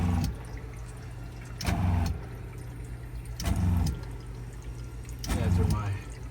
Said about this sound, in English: You hear the water pump working hard there.